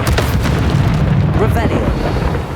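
A Confringo spell bursts in the Hogwarts Legacy video game, a loud booming blast with a rumbling tail, heard under a voice.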